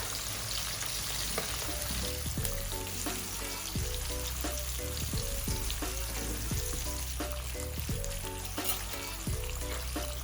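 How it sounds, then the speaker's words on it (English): Continuous crackling sizzle of fish frying in hot oil over medium heat, steady and close throughout, with occasional soft clinks of the pan. "And I'm frying these on medium heat."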